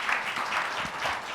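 A panel audience gives a short burst of moderate, even applause that fills the full brief moment with no voices over it.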